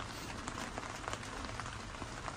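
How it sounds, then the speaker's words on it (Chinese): Heavy rain pattering on the roof of an electric tricycle camper, a steady dense patter with scattered louder drops, fairly faint and continuous, no voices. "听这个雨声，噼里啪啦的"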